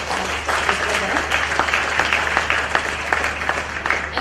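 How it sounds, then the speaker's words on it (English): Applause from an event audience for a team of experts, sustained and evenly rhythmic clapping from many hands that stays at a fairly loud level throughout. "I would like to ask you all to give a round of applause to the experts."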